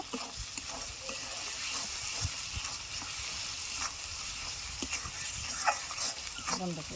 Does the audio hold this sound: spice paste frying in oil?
yes